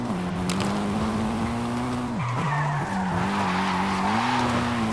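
A Mitsubishi EVO III with a 2.6 twin-turbo engine, tuned to 720 horsepower, slides through a skid in Forza Horizon 5. A sustained engine drone holds under steady tire squeal, dipping briefly mid-slide before pulling back up, loud and continuous.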